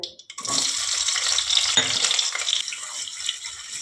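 Bright hissing sizzle as potatoes fry in mustard oil, starting abruptly after a brief pause and continuing with crackles and light clatter.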